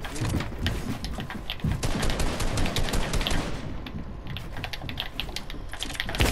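Rapid gunfire in the Fortnite video game rings out in dense, sharp bursts of close shots that come and go over several seconds, with a voice speaking at times.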